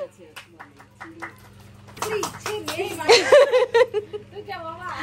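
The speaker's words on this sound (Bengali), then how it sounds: "হাততালি দাও সবাই।" Family members clap together right after singing happy birthday to a boy at a home celebration; the uneven clapping starts partway through, mixed with chuckles, laughter and children's voices nearby.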